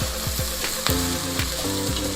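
Garlic sizzles in a hot pan with onions for a Peruvian tripe and potato stew, a steady crackling fry broken by several rhythmic scraping strokes of a spoon stirring close by.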